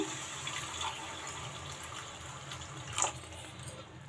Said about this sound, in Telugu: ఇప్పుడు మనం గ్రేవీకి తగ్గట్టు వాటర్ వేసుకుందాము